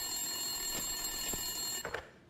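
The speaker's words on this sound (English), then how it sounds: "Winterson's phone was ringing." A desk telephone rings in the Max Payne 2 video game, with a steady ringing tone over a low, even background hum for about two seconds before it cuts off.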